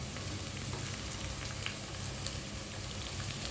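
Garlic and onion paste sizzles in a hot frying pan, a steady, close crackling hiss that holds at an even level with no voices.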